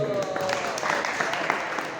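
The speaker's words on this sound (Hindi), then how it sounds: "अरे वो ताली चाहिए" Audience clapping during a religious lecture, a dense patter of many hands at moderate loudness, steady through the short stretch.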